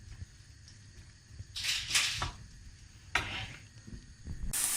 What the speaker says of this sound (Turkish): ince ince doğradığımız tavuğumuzu içine koyuyoruz. Kavrulmasını bekliyoruz.